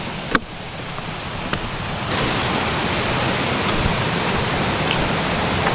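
The large waterfall at Middle Falls roars as a dense, steady wash of broadband rushing water that swells louder after a couple of seconds and then holds constant, with a few faint clicks early on and no talking.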